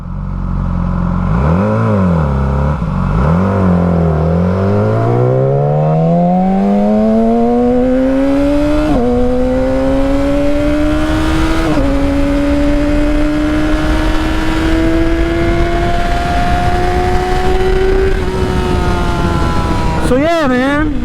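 A motorcycle engine revs and pulls steadily while riding, its pitch climbing through gear changes with brief dips, loud and close throughout under a constant rush of road and wind noise.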